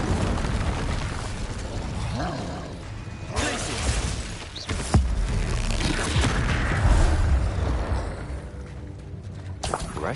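Incendio fire spell cast in the Hogwarts Legacy video game, with bursts of whooshing flame and impact booms amid a busy, continuous stretch of game noise and music; a voice speaks intermittently.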